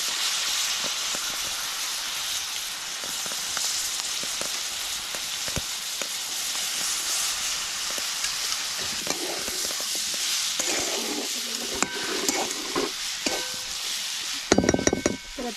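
Spices sizzle in hot oil in a home kitchen, a continuous frying hiss with stirring clinks, swelling into a louder burst near the end.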